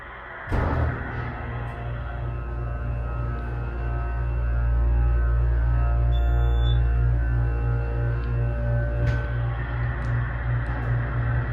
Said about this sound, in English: Alright, here we go. Let's hear the motor.